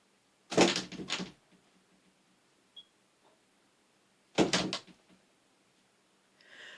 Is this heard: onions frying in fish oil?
no